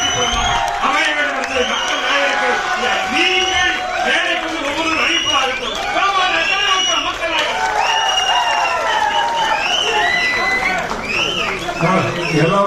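A large crowd at a film audio launch roars with cheering and applause, loud and continuous, with whoops and shouts rising over the steady clapping.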